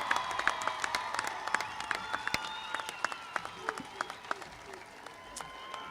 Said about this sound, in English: Big round of applause for the graduates of 2018.